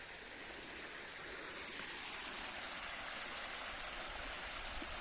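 Irrigation water pumped by a motor from behind a farmhouse pours steadily into a field being readied for winter crops, a constant broadband rushing that holds at an even, moderate level with no voices.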